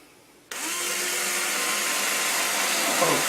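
A power drill with a 1/16 inch bit bores pilot holes into wood, starting abruptly and running as a steady, bright whine that holds for several seconds.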